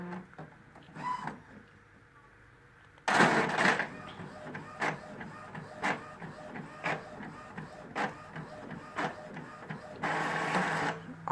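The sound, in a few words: printer printing a page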